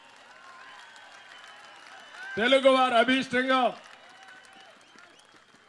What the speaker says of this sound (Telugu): ఈ సమావేశంలో ప్రతి ఒక్కరూ గట్టిగా చప్పట్లు కొట్టి